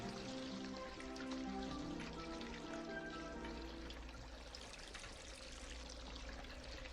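Water pours and patters softly onto a plant in an ocean-cleaning video game, a faint continuous trickle and splash layered over a quiet melodic game soundtrack.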